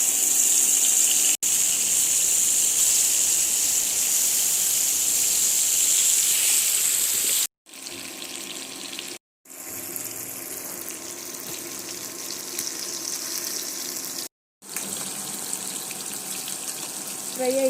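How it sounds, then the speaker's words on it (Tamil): Fish frying in hot oil for Tamil-style meen varuval, giving a loud, continuous hissing sizzle that is briefly cut off by a few short silent gaps. "நான் இப்போது மீனை போட்டுக்கிறேன்."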